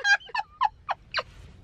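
A person imitating a clucking hen: five sharp, evenly spaced squawking clucks over under two seconds, close and fairly loud, with a short cackling break between the calls.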